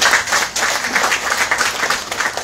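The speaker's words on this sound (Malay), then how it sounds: "Kita beri tepukan sekali lagi." Lively applause from the audience at a political rally in Johor, a burst of many hands clapping that swells and dips slightly over a couple of seconds, close and fairly loud.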